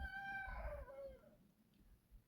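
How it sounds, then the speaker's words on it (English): A rooster crows once outdoors, a single faint, distant call that trails downward and fades over low background rumble. "That rooster wants to go right now."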